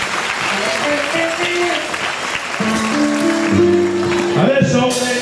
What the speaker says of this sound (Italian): Bel applauso Monica